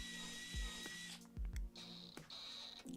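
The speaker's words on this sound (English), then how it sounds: "drill pilot holes into the studs" A power drill bores pilot holes into wooden wall studs while scrap-wood shelving brackets are mounted; a steady close whine runs in bursts, stopping and restarting, with low clunks between runs.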